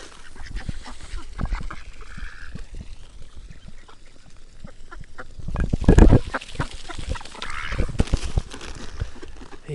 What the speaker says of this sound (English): Just trying to give you a bit of duck ASMR when they're all eating the seed